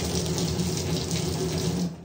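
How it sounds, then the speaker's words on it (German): Water streams steadily from an old household shower, a continuous close, loud hiss and splash with no talking. "Hier sehen Sie meine alte Dusche."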